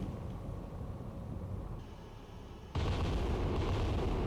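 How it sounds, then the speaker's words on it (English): Naval gunfire in the submarine game Cold Waters, a sustained low roar of distant shelling that abruptly swells into a louder, heavier rumble partway through, with no speech. "More of our gunnery is getting him."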